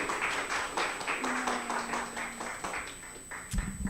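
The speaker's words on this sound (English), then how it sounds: "Give her a round of applause." Audience applause for a woman called up to speak at a suicide and recovery awareness fundraiser, a steady wash of many hands clapping in a room for about four seconds, with no one speaking over it.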